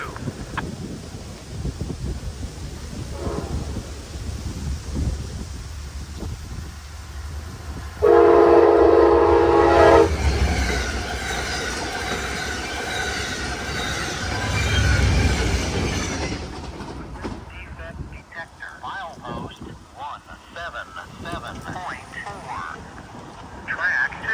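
An Amtrak train rolling past on the line at the west side of Amsterdam, a loud horn blast breaking in and then a long rumbling roar of cars, with wind noise and a radio detector voice around it.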